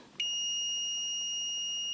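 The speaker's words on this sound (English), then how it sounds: "I will set this to continuity, which means when I touch these leads together, it will make a beeping noise" A multimeter set to continuity gives a continuous high-pitched beep as its test leads touch, starting abruptly and holding steady and clear to the end.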